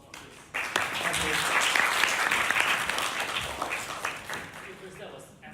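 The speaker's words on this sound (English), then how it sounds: "shall we give a big round of applause for Chris?" An audience breaks into a big round of applause for a speaker named Chris after a public policy talk, sudden onset, sustained clapping that fades slightly toward the end.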